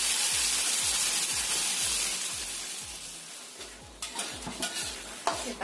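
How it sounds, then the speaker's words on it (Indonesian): Ground spice paste is sautéed with small anchovies in a pan, a bright sizzle under rhythmic scraping stirs that gradually fades, then a few sharper clinks and scrapes at the end. "Setelah terinya matang, kita masukkan bumbu yang sudah kita ulek tadi."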